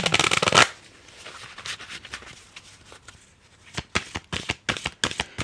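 Oracle cards being shuffled for a reading, a loud riffle of cards at the start followed by quieter sliding and then a string of sharp, separate card slaps and taps.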